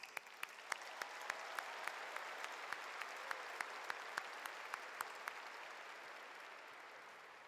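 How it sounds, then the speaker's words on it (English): A university commencement audience applauding faculty and staff, a broad steady wash of clapping from a large crowd with a few sharp, close individual claps standing out in an irregular rhythm. "Please show them your gratitude and dedication with a round of applause."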